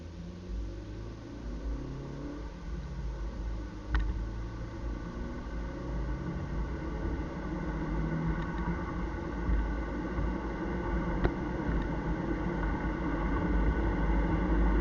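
A Chevy Sonic RS car engine running on a dyno, a low rumbling drone that builds gradually in intensity as revs climb, with a few sharp clicks over the steady roar.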